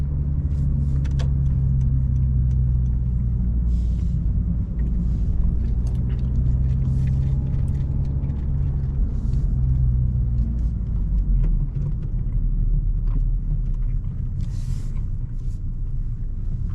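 Honda Civic Si turbo engine droning low and steady while driving, with a continuous rumble and a faint higher whine above it, close and alone.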